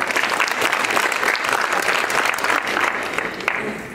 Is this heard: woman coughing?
no